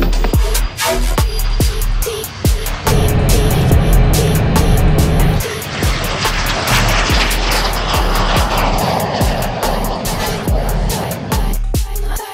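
A fighter jet takes off, its loud engine roar sustained and dominating throughout, with sharp rattling clicks and thumps scattered across the clip as the aircraft gathers speed.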